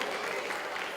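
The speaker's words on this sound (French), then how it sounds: "On les applaudit encore une fois les Europrod" Faint crowd applause for the Europrod street dancers at a dance show final, a brief, even patter of many hands heard from some distance.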